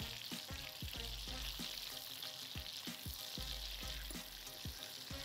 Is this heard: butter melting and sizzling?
yes